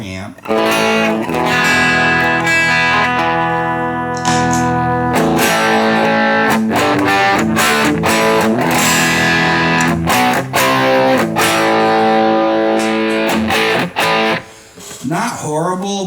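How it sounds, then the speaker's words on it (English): Electric guitar driven through a 1970s DOD Overdrive Preamp pedal, loud gritty chords and single-note phrases with fizzy top end ringing for about sixteen seconds, with a voice speaking in places. "now we'll go over to the Overdrive Preamp."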